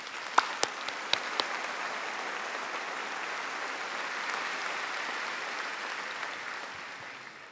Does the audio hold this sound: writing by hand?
no